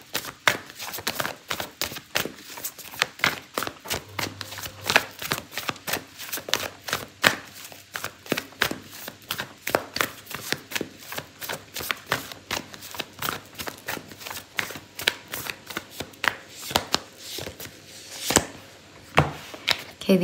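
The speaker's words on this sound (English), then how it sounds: "So I'm going to pull out an oracle card for you" Oracle cards are shuffled for a tarot reading, giving a steady run of crisp, rapid card slaps and riffles, close up, continuing without talk for about twenty seconds.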